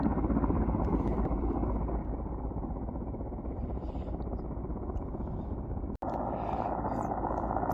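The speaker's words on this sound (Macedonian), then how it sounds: "Хеликоптерот го излече." A rescue helicopter's rotor and engine roar loudly and steadily throughout, close by on a mountain, with a brief dropout near the end.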